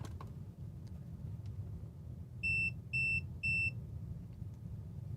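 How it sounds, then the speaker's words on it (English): A handheld multimeter measuring AC volts at a wall plug gives three short, evenly spaced electronic beeps, clear and close over a low background rumble. "It beeped at me probably because it's high voltage."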